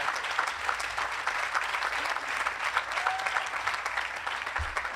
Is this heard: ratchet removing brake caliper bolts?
no